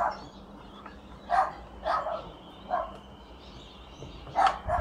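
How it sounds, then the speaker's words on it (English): Several dogs bark in short separate bursts, moderately distant, over a steady low background hum in a workshop setting, with no talk. "Dogs, yep."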